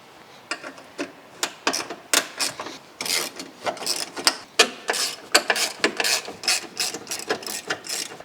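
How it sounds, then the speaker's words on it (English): Ratcheting clicks from an 8mm socket wrench loosening radiator top brackets, quick uneven bursts of pawl clicks in short strokes, close and fairly quiet. "These top brackets just come off with a 8mm socket"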